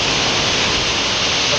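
Vasundhara waterfall near Bhandardara, heard as a steady, dense rush of falling water, loud and continuous with no pauses and no voices.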